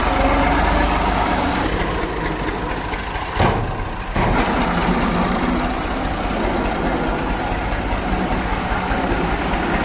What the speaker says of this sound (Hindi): ये नहीं जी, ट्रैक्टर आ चुका है, तो इसको ना अभी इधर खड़ा कर देते हैं।